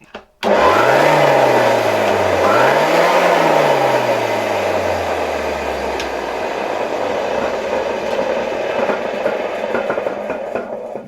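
An old Zelmer vacuum cleaner from the late communist-era Poland runs loudly and steadily, its motor whine surging up and falling back at the start before settling into a continuous roar close by, with no talking.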